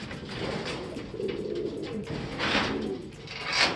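A racing pigeon lands at the loft during a super sprint race and gives soft, throaty coos against a steady outdoor background with other birds nearby, with no talking.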